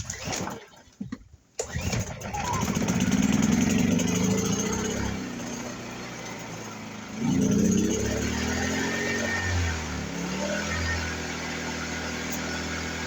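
A WEN 2350i portable inverter generator pulls over after a couple of sputtering tries, then settles into a steady running drone with a surge in speed midway, loud and close with no talking.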